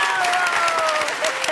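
A television studio audience applauds and cheers at a Spanish-language dance show, with dense clapping and crowd voices mixed with a sustained tone throughout the short burst.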